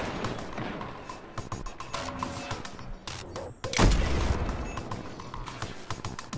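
Sniper rifle fire in the video game Destiny 2 amid a busy mix of game shots and clatter, with one loud, booming crack near the middle.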